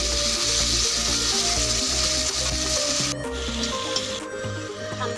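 Pork pieces, being half-fried before rongalau and potatoes go in, sizzle steadily in a pan with a constant hiss and occasional scraping stir, with no talk over it.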